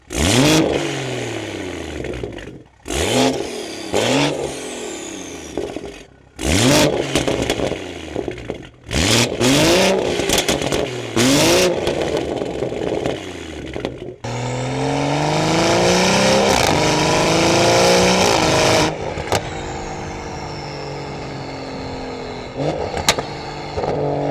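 A modified BMW M3 with a single exhaust exit and a big single turbo revs and accelerates hard, loud and close, in repeated bursts before a longer sustained roar that settles into idle, with no talking.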